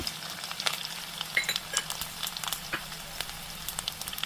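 Garlic, green chili, mustard seeds and cumin fry in hot oil for an okra dish, giving a steady close sizzle dotted with sharp little pops and crackles, with no voices.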